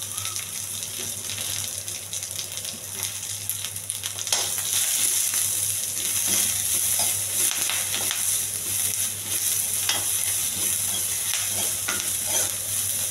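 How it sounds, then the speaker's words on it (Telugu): Green chillies and chopped onion fry and sizzle in a pan for a chickpea snack, a steady hiss that grows louder partway through, with occasional stirring scrapes and a low background hum, no voices. "పచ్చిమిర్చి, ఉల్లిపాయ బాగా వేగాలండి."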